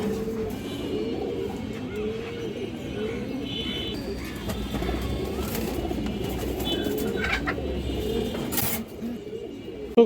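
High-flyer pigeons offered for sale keep up a steady chorus of soft, throaty cooing, with several birds overlapping closely throughout and faint chirps and rustling mixed in.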